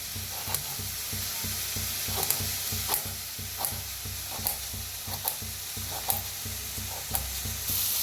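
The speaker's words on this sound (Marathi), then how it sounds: "कांदा चांगला भाजतला आहे" Onion frying in a pan for a dry dingri curry; a continuous sizzle broken by regular sharp scrapes and clinks of stirring, about one every half second, close and clear.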